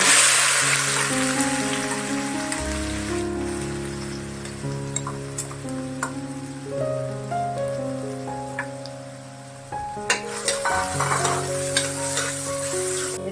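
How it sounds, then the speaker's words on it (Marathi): Onion frying in a mix of oil and ghee, being browned for a spinach and soya sabzi: a loud, dense, continuous sizzle up close, broken by a few sharper clatters of stirring near the end, with no voices. "चांगला आता व्यवस्थित परतून घ्यायचंय गोल्डन ब्राऊन करून घ्यायचंय"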